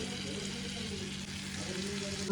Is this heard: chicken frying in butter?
yes